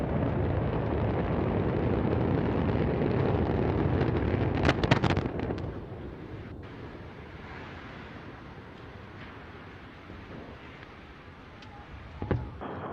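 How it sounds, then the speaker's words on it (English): An Antares rocket carrying a Cygnus cargo craft lifts off with a loud, broad roar from its main engines. A burst of crackle comes in mid-way, then the roar settles into a softer, distant rumble. "And we have liftoff of Antares"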